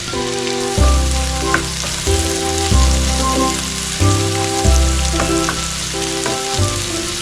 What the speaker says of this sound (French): je vais commencer à faire dorer eh bien, les oignons et le céleri. Que j'ai mis du beurre dans la poêle.